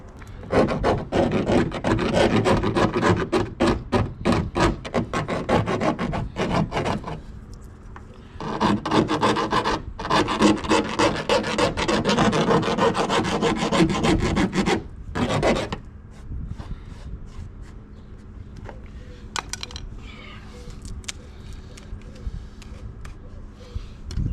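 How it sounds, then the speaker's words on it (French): A hand file rasps on metal during a camper van conversion, long bursts of harsh, rhythmic scraping strokes up close, broken by short pauses and ending in scattered lighter scrapes, with no talk over it. "je vais limer et je vais mettre l'anti-rouille"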